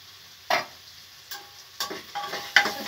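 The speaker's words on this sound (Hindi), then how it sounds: "इसमें मैं डाल देती हूँ अदरक लहसुन कुटा हुआ" Crushed ginger and garlic, not paste, hit hot oil in a home kitchen and crackle in short close bursts, mixed with a few stirring scrapes and sizzle flares spread over a few seconds, without any voices.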